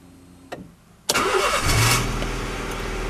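A Honda Civic EJ9 running on bioethanol starts up: a short click, then the engine catches sharply and settles into a steady idle, close by.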